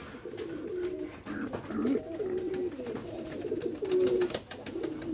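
Pigeons cooing in a loft, several soft repeated throaty coos overlapping close by against a faint background hum.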